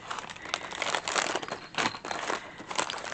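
Close, fairly quiet crinkling of plastic packaging holding crochet pieces, with uneven bursts of rustle and crackle as it is squeezed and moved, and no talking.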